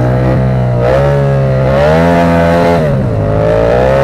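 A 74 hp motorcycle engine revs loud and close, a harsh buzzing drone that climbs and falls in pitch through several throttle blips with no pause.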